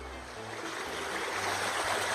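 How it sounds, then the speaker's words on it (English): Creek water flows steadily in a broad, close rushing wash with no pauses, a continuous outdoor burble while gold prospecting. "It's a creek."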